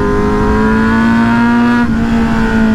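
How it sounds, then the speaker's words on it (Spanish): A Kawasaki Z900 motorcycle with a small aftermarket exhaust, loud and close, holding a steady harsh engine drone with a brief dip near the end. "esta Z tiene un escape que suena bastante duro."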